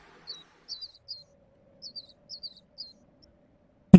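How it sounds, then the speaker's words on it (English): Sand sparrows in the Gerudo Desert of Zelda: Breath of the Wild give short, bright chirps in small clusters of two or three, spaced across a quiet background with a soft low hum. "They're not chickadees. They're sand sparrows."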